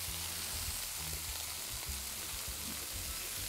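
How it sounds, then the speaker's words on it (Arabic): Mushrooms and onion fry on a hot sizzling plate with black pepper and salt, giving a steady, close crackling hiss with small pops throughout and no talking. "طيب يا سمير نبلش نطبخ الفطر مع البصل الان"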